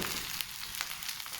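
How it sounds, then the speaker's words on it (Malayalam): Chicken fried rice with scrambled egg is stir-fried over high flame, giving a continuous bright sizzle with a few faint scrapes of stirring, steady and fairly quiet, with no talk. "ചിക്കൻ ഇതെല്ലാം ഇട്ട് നന്നായി ഒന്ന് ഇളക്കി യോജിപ്പിക്കാം."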